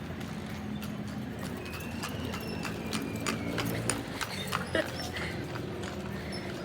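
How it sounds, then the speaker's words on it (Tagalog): A horse clip-clops along Binondo Bridge in Manila, its hoof beats steady and close amid street noise, while people talk nearby. "Tignan niyo guys yung kabayo."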